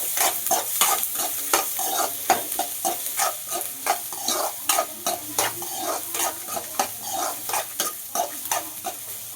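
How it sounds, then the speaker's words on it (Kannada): Onion, green chilli and garlic fry in a pan for a spicy Indian chutney, a steady close sizzle with rhythmic scraping stirs repeating through, no voices. "ಸ್ವಲ್ಪ ಗೋಲ್ಡನ್ ಬ್ರೌನ್ ಬರೋವರೆಗೂ ಈರುಳ್ಳಿ ಮತ್ತು ಮೆಣಸಿನ್ಕಾಯಿ, ಬೆಳ್ಳುಳ್ಳಿ ಇದಿಷ್ಟು ಕೂಡ ನಾವು ಫ್ರೈ ಮಾಡ್ಕೊಳ್ಬೇಕು."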